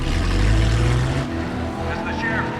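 A motorboat engine runs steadily with a low, continuous drone that eases slightly midway, with faint voices in the background near the end.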